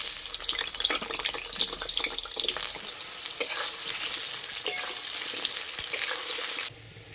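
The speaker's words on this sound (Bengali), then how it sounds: "এই তেলে আলু ভেজে নেব।" Potatoes sizzle and crackle in hot oil in a kadai while aloo phulkopi dum is cooked, a continuous close frying hiss with occasional stirring scrapes that cuts to quiet just before the end.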